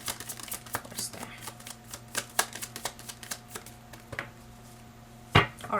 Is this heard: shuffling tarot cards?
yes